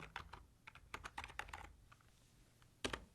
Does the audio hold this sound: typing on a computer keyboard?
yes